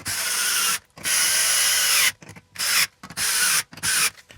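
Screws being tightened into an electrical box mounted in drywall, heard as bursts of close, gritty rubbing and grinding from a driver, several pulses separated by brief pauses.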